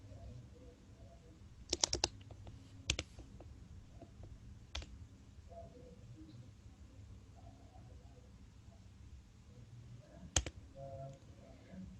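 A computer keyboard and mouse are used to type an equation into a math editor: sparse, sharp clicks and taps come in small clusters over a quiet, faintly humming room.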